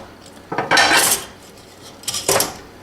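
Rainbow carrots rattle into a metal steamer pot in two quick clattering bursts, close and bright with metallic clinks, separated by a short pause.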